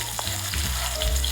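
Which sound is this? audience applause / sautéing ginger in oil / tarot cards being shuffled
sautéing ginger in oil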